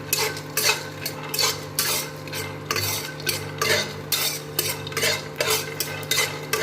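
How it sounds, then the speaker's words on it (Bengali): Peanuts and garlic cloves frying in a pan for a Hyderabadi bagara baingan, with repeated scraping and stirring clinks of a utensil against the pan over a steady sizzle, close and fairly loud. "দেখলেন বাদামগুলো হালকা ভাজা হয়ে গিয়েছে, রসুনটা ভাজা হয়েছে।"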